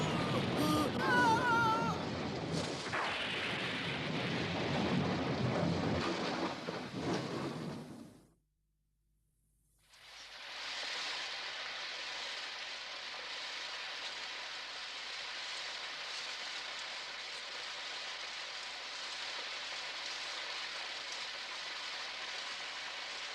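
Steady rain pours outside a small cave, a broad hiss that fades into a brief silence and then resumes as constant even rainfall; no distinct thunder stands out.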